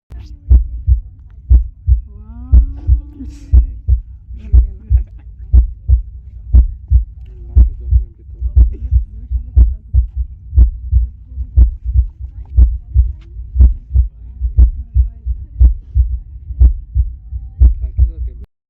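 Amplified heartbeat from a palm-reading installation at a light show in Abu Dhabi, a loud, regular deep thumping pulse of roughly one beat per second repeating steadily, with a brief faint voice in the background.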